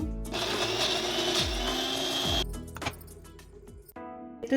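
An electric mixer grinder whirs loudly, grinding black pepper and salt into a masala for mutton kaima sambar. The steady motor drone lasts a couple of seconds before it winds down into rattles and knocks.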